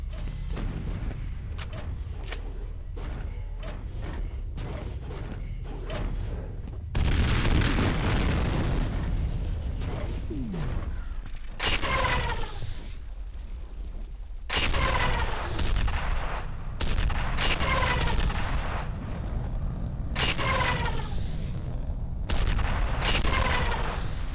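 Combat in the shooter game F.E.A.R.: a mine blast followed by bursts of gunfire, heavy booms and rapid shots repeating loudly over a constant low rumble, with no speech.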